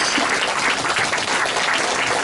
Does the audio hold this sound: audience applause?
yes